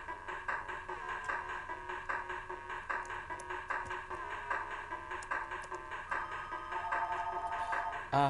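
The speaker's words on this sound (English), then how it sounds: "A phone call. That's just lovely." A phone rings in the Hero Core video game, a rapid repeating electronic tone pattern that runs steadily throughout against game music.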